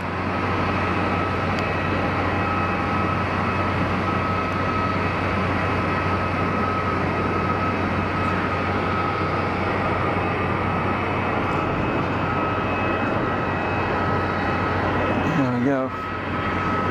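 An EasyJet Airbus A320neo airliner goes around at Geneva Airport, its engines a steady, loud broadband roar with a sustained tonal hum throughout, under faint background voices.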